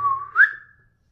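A single person's whistle, held steady then rising and sliding to a higher pitch, clear and close, fading out after under a second, heard right after an at-home shave with a Fatip open comb razor and Rainbow blades.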